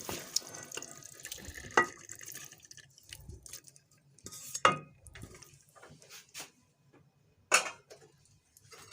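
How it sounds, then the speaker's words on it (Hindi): Marinated chicken stirred into masala in a cooking pot for chicken malai handi, heard as scattered wet clinks, scrapes and splashes in short bursts with quiet gaps between them. "मिक्स करेंगे इसको।"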